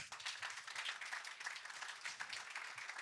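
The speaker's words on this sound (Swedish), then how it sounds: "Jag skulle vilja att ni ger en varm applåd till Linda Malm som är Nordenchef på Nvidia." Faint, distant applause at a conference panel, a steady patter of many hands clapping at low volume throughout.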